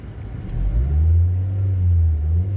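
Ford Focus Mk1 engine idling with a low steady rumble, rising briefly as the throttle opens, then settling into a smooth hum, close and alone without talk.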